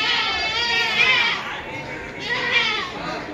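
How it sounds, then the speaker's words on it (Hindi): Large goats at a livestock market in Deonar bleat loudly and repeatedly, their wavering calls close by and overlapping, with market din underneath. "देखिए बकरा, देखिए माशाल्लाह बड़े बड़े बकरे"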